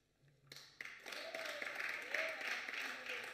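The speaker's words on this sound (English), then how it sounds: "it deserves, for sure, your applause" Applause from members in a parliamentary chamber during a National Council of Provinces plenary, swelling from a few early claps into steady, fairly faint clapping that continues to the end.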